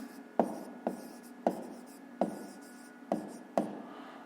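Names of regional centres are written on a board in quick, regular strokes, each starting with a sharp tap and then a short scratch, about seven in four seconds, close and fairly quiet.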